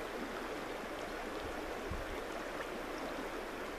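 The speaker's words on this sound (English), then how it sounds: "Hear the sound of the water" River water in Sedona, Arizona flows continuously in a soft, broad rushing wash, faint and steady with no other sounds.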